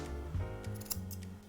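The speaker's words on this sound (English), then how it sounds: "I'm going to come along with my curved scissors" Curved scissors snip the hair on a Cavoodle's muzzle and in front of its ear, a quick run of soft, close metallic cuts over a faint background hum.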